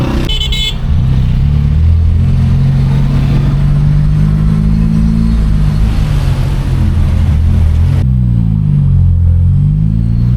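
Busy car traffic on a Tehran street, with engines rumbling and idling up close as vehicles move past, a loud steady drone throughout and a brief higher tone at the very start.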